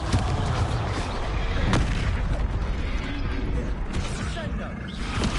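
A Confringo fire spell in Hogwarts Legacy blasts with booming impacts, sharp hits landing at intervals against busy game combat noise, and voices come and go beneath it.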